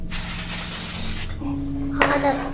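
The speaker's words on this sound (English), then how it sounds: "What are you doing, playing with compressed air?" Compressed air sprays in a strong, steady hiss for over a second, stops, then comes back as a brief second burst, close and loud over a faint background hum.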